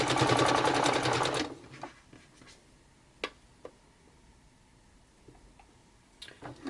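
A sewing machine stitches fabric clusters in a fast, loud mechanical rattle for the first second or so, then stops, leaving a few isolated clicks and taps before a short burst of stitching starts again at the end.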